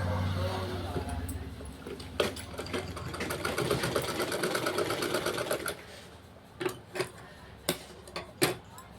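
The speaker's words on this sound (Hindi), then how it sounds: "इस तरह से प्लेट डालने के बाद इसके बीच में एक सिलाई लगा देंगे।" A sewing machine stitches buckram-stiffened pleats onto a sleeve in a steady, fast mechanical rattle for several seconds, then stops into a few separate, sharp clicks.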